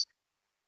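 One crisp computer mouse click, close and sharp, followed by a tiny release tick and then silence.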